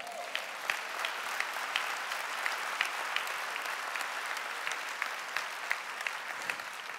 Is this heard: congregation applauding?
yes